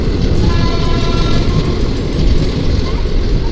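Train noise in a Varanasi railway yard, near the Varanasi–Rajgir Buddha Purnima Express: a loud, steady rumble of rolling wagons, with faint tonal horn-like lines over it and no clear speech.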